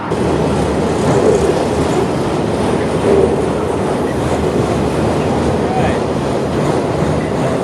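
A train rolls across a railway trestle over Lake Pontchartrain, loud and close, its rumbling wheels and clickety-clack running steadily throughout, with faint bits of voice mixed in.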